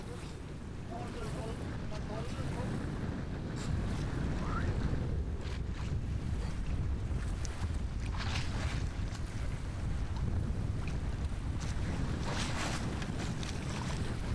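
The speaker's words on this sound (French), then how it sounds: "Il faut vite regagner Béhengolo parce que le vent devient violent." Strong wind buffets a sailing fishing boat at sea off Madagascar, a loud, continuous roar of gusts and water rushing past the hull, with no voices.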